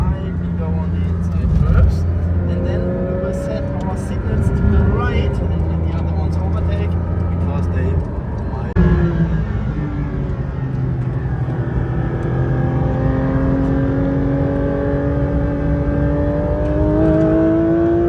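A Porsche GT4 RS on a race track, its engine droning loudly and rising in pitch through the gears. A person talks throughout over the engine.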